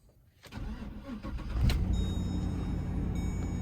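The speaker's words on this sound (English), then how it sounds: "So right now, I'm fixing to start the truck." A pickup truck's engine cranks briefly and catches, settling into a steady, fairly loud idle heard up close with no talking.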